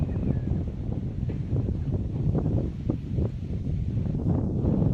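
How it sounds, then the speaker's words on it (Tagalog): Strong wind buffeting the microphone in a constant low rumble, with rustling outdoors in a vegetable garden. "Ang lakas ng hangin, oh."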